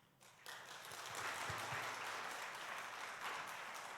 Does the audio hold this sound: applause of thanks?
yes